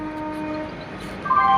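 A train horn sounds with sustained tonal blasts over low rumbling rail noise as a train arrives at Secunderabad railway station, rising in pitch and loudness near the end.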